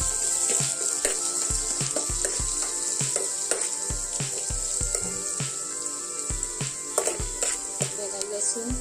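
Garlic and onion fry in an oiled pan for a prawn dish, giving a steady bright sizzle while a spoon scrapes and knocks against the pan in regular stirring strokes.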